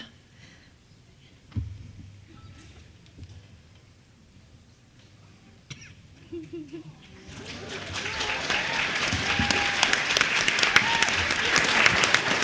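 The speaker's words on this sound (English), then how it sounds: "I like how it always takes that one person to start clapping." Applause from a convention fan-panel audience at San Diego Comic-Con 2014 starts with scattered single claps amid quiet murmurs, then swells into sustained, dense clapping from the crowd; people talk briefly before it builds.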